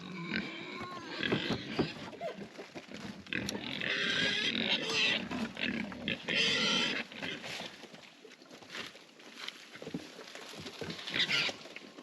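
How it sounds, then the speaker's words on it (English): Pigs grunting and oinking noisily as chips are tossed to them in a muddy pen, a busy, continuous chorus of squeals and snorts with rustling and scattered thuds throughout. "see if we can toss some chips to some pigs here and see how they respond"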